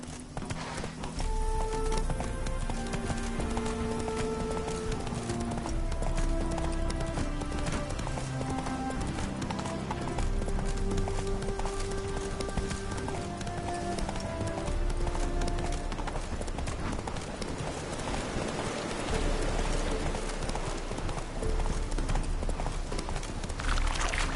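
A horse gallops in The Witcher 3: Hearts of Stone with steady, rapid clip-clop hoofbeats on the ground, loud and continuous throughout, over a bed of game music.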